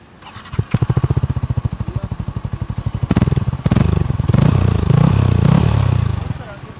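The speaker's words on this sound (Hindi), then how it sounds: "अब लास्ट में वीडियो को ख़त्म करने से पहले आपको एक बार एग्जॉस्ट नोट सुना देता हूँ।" A Yamaha R15 M exhaust note thumps out in a fast, even idle pulse from close by, then swells into louder revs toward the end.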